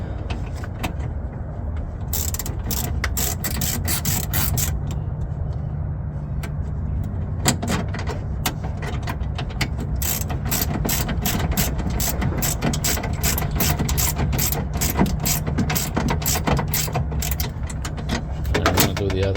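A ratchet tightens a nut on the window regulator of a Ford Econoline van, clicking in fast steady bursts at close range, with a brief pause near the start and a few louder clunks mixed in.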